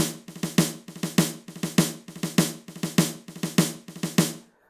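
A programmed snare pattern plays alone, crisp evenly spaced hits in pairs with accented strokes, repeating steadily for several seconds before stopping cleanly.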